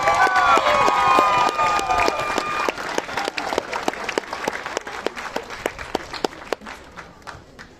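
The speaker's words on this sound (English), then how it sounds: "Please give Western Australia another really big round of applause." A crowd at a junior football nationals closing ceremony in Melbourne applauds the Western Australia team, loud sustained clapping and some cheering that thins out into scattered individual claps toward the end.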